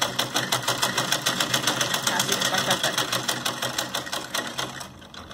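Sewing machine stitching fabric for a small summer dress, a rapid steady run of needle strokes close by that slows slightly near the end, with no talk over it.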